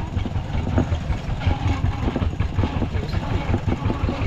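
Two farm tractors idling outdoors in a rural setting, a throbbing low engine chug that pulses steadily and close, with voices talking over it.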